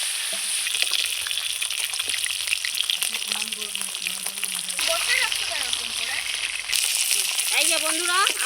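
Mirka fish pieces fry in hot oil in a pan, making a loud, continuous crackling sizzle from start to finish, with faint voices somewhere in the background.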